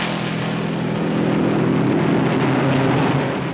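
The supercharged V8 Novi race car roars along the backstretch at the 1957 Indianapolis 500, a loud, steady, continuous engine drone with no gaps, heard in old recording quality.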